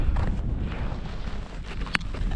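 Steady wind buffeting the microphone out on frozen sea ice during a kite-skiing trip near a forest edge, a continuous low rumble with gusty swells and one brief sharp knock near the end.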